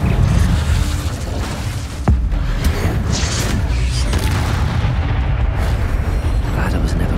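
A fire spell explodes in the video game Hogwarts Legacy as a dense, loud roaring burst with a sharp crack partway through, followed by a continuous rumbling blaze.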